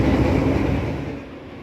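A Ranggajati executive-class passenger train cruises at about 95 km/h after leaving Yogyakarta, heard from inside the coach as a steady, loud, low rumble and roar that slowly fades a little toward the end.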